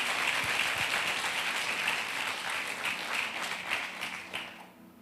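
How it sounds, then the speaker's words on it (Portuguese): A church congregation claps steadily in continuous applause during a sermon, the clapping gradually thinning and fading out toward the end. "Vamos aplaudir Jesus, gente?"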